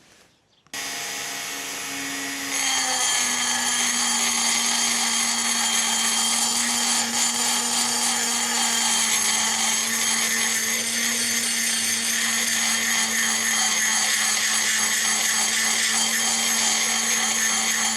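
A power tool scrapes out a cast iron cylinder, starting after a brief pause and running as a loud, steady, high whine with a grinding rasp that holds for the whole stretch, close up and with no talk.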